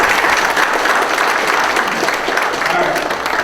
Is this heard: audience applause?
yes